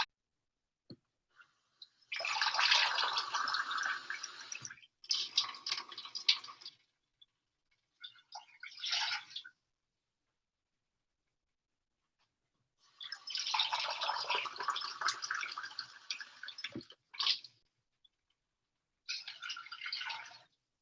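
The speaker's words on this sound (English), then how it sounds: "We're just putting some water in so that way we can start to cook the pasta." Tap water pours in several separate bursts into a cooking pot in a home kitchen as pasta water is prepared, each rushing stream loud and close with quiet pauses between.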